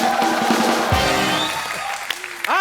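Studio audience applause and cheering on the Kapil Sharma Show, a dense steady roar of clapping throughout, with a voice calling out near the end.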